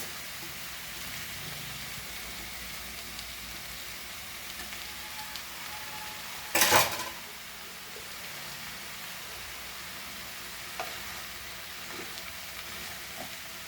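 Spring onion greens fry in a pan for Goan bhaji with a steady soft sizzle, a brief louder burst as they land in the hot oil midway, then a calmer hiss.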